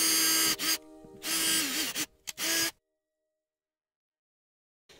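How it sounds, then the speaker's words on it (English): A power drill bores a couple of short pilot holes through plastic trim in the cargo area of a 2003 Hyundai Santa Fe, with close, whirring bursts separated by brief pauses, then silence. "So let's put a couple of pilot holes in there for the screws."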